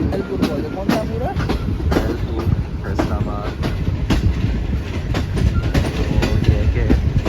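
Shalimar Express passenger train rolling into Faisalabad railway station toward platform one, steady loud rumble with rhythmic wheel clatter on the rails, a voice speaking over the noise.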